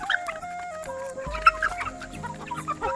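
Farm chickens cluck and call together as they rush in at feeding time, a busy layered mix of clucks and short squawks close by, with a low rumble underneath.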